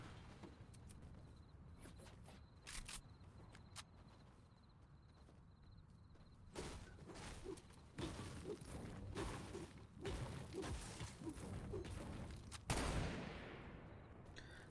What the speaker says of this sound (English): shots fired actually towards the high ground here in Sweaty Sands